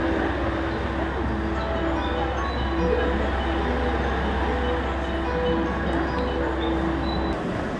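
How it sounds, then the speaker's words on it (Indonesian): Steady loud rumble and rattle of a train arriving at a station in Osaka, a constant dense roar without pauses that continues for several seconds. "Tinggal nunggu kereta"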